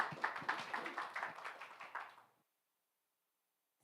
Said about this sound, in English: Please join me in a welcome round of applause.